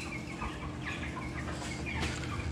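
Cobb-500 broiler chickens about twenty days old, fed Purina grower feed, cluck and chirp as a dense flock in a poultry house, many overlapping calls over a steady background hum.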